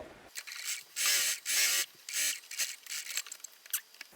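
A sewing machine stitches a quarter-inch seam for a French seam, its motor running in two loud, steady bursts, each about half a second long. Lighter fabric handling and rustling follow.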